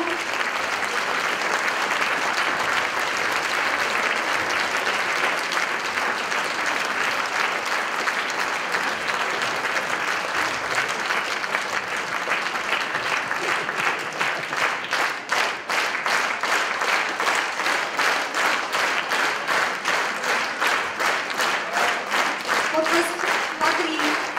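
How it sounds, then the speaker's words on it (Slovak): Sustained, dense audience applause fills a hall at a benefit concert, loud and steady throughout, swelling into more distinct rhythmic clapping toward the end. "ktorí si naozaj zaslúžia zo všetkých nás najviac váš potlesk a vašu vďaku."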